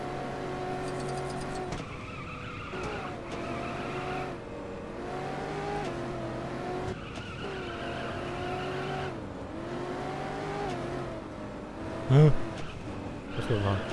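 A car in Lego Batman 2 drives along with its engine revving in repeated rising and falling surges, tires squealing at times, ending with a couple of louder knocks.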